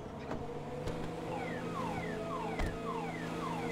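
A Futo car alarm in Grand Theft Auto V, repeating falling electronic chirps in a steady pattern, fairly faint over a droning background with a couple of knocks.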